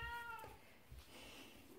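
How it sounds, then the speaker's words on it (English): An elderly pet cat meows twice in a row, the first call rising and falling clearly, heard at a moderate distance in a quiet room, with faint room noise and a soft low thump afterwards. "I don't know if you can hear that. That's my cat."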